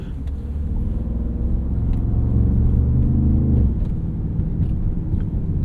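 A deep, steady rumble from a Bentley Bentayga Speed's twin-turbo V8 swells under acceleration, then eases off into a quieter whir, heard from inside the SUV with no speech.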